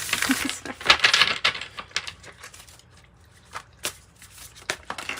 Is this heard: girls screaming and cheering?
no